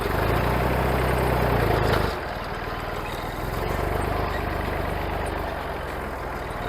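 Massey Ferguson 135 tractor engine running with a steady low diesel drone, close and loud, easing slightly after two seconds and then continuing evenly.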